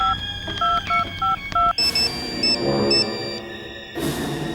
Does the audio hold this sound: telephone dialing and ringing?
yes